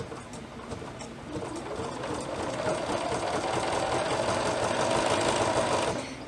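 A sewing machine runs steadily, stitching over a fabric edge while sewing underwear, its rapid mechanical stitching chatter building slightly in loudness and then stopping abruptly near the end.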